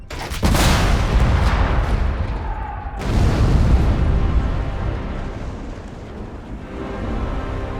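Cannons fire in a battle, several heavy booms going off one after another with sharp blasts and long rolling decay between them, loud and near.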